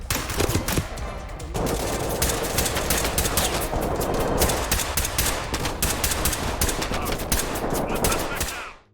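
Rapid automatic gunfire in the tactical shooter game Ready or Not, loud dense bursts of shots running almost continuously, with a brief voice heard near the start, ending abruptly.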